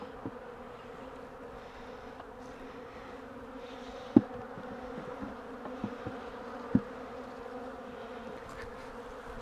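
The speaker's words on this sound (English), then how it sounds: "queen's right here, so all the bees will start migrating in here" Honey bees drone in a continuous hum during a cutout of a colony from a barrel hive, with a few soft knocks and taps over the buzzing.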